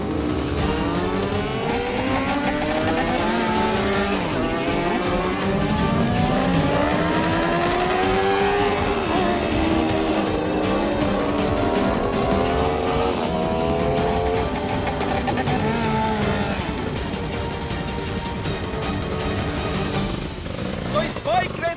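Motorbikes racing in a bike race, several engines loudly revving and whining with rising and falling pitch that overlap continuously, with voices mixed in.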